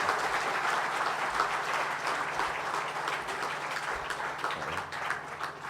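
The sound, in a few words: audience applause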